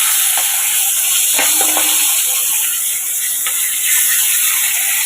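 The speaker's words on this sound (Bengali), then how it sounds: "দুটো মাছ ভাজা বসিয়ে দিলাম," Two fish fry in a pan with a loud, continuous close-up sizzle of hot oil, marked by a few faint clicks and crackles.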